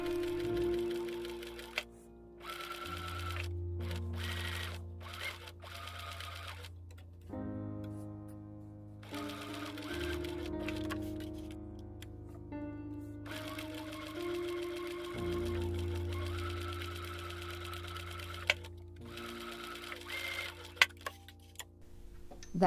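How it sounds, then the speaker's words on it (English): A sewing machine runs in steady bursts of rapid mechanical stitching, sewing gathering stitches into a dress sleeve head, pausing and restarting several times, close and clear with no voices. "I adjusted the settings on my sewing machine and stitched 2 lines of gathering stitches"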